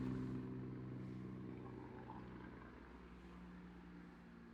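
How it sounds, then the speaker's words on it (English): A helicopter passes overhead outdoors, its low, droning rotor hum loud at first and slowly fading as it moves away, with no talking. "And I'm going to let this helicopter pass as well."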